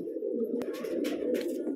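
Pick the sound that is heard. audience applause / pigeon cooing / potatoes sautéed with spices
pigeon cooing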